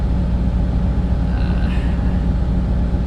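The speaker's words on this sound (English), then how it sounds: "it kind of sucks having to run the truck" A diesel truck engine idles steadily to supply electricity, a continuous low rumble heard close and alone with no talk over it.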